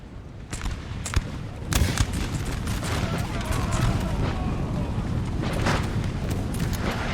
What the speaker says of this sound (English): They're putting good volley into these grenadier unit as well.